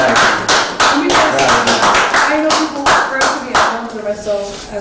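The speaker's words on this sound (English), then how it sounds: "That's just applause for that." Applause from a radio show studio audience during an artist interview, a steady burst of many hands clapping close by, with voices talking over it.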